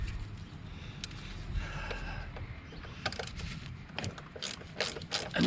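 A fastener is worked loose beneath the thermostat of a 2009 Mercedes-Benz W204 C200, giving close ratcheting clicks and metallic tool taps over a low background hum, busier toward the end.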